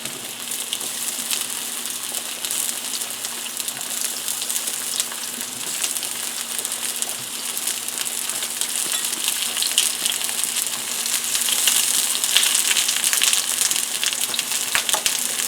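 Zucchini frying in shimmering oil in a pot for a one-pot baked ziti, a dense continuous sizzle that grows louder toward the end, close and unaccompanied by talk.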